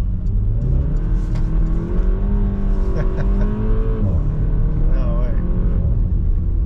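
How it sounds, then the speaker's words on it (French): A 2022 Porsche Macan S in sport mode accelerating, its engine drone rising steadily with a faint whistling turbo spool on top, loud and close from inside the cabin, with a brief spoken remark over it. "On entend extrêmement bien le turbo spool qu'on appelle."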